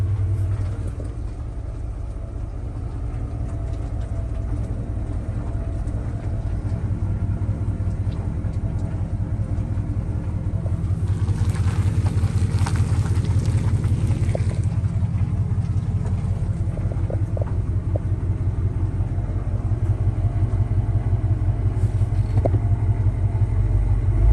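A truck cruises along a highway, its engine and road noise forming a loud, steady low rumble that swells slightly over time, with no talking.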